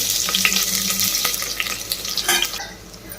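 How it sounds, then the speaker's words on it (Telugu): Onions frying in oil for a vegetable biryani, close sizzling with scraping stirs and a few clinks of a spoon, fading slightly toward the end with no voices. "ఓకే అండి, ఉల్లిపాయలు వేగిపోయాయి"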